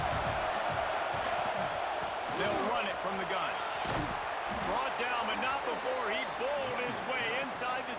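Stadium crowd in the College Football 26 video game, at a Nebraska versus Grambling State matchup, keeps up a steady broad roar throughout, with a commentator talking over it.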